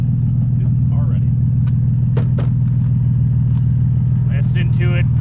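Nissan 350Z engine idling, a deep steady low rumble running throughout with faint chirps and brief voices over it.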